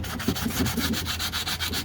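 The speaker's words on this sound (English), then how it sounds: "So I'm just sanding out the high spots" Steady rhythmic sanding of a damaged metal wheel rim, a coarse abrasive rubbing in quick back-and-forth strokes smoothing high spots, close and fairly loud with no voices.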